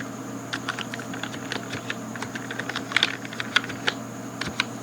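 Rapid, close keystrokes on a computer keyboard while a folder command is entered on a computer, a steady, irregular clatter of clicks with a few louder key hits.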